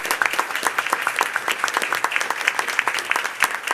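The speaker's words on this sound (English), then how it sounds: "Let's give another round of applause for these middle school students for the remarkable achievement" An audience applauds middle school students at a school board of education meeting, steady dense clapping from many hands filling the room without pause.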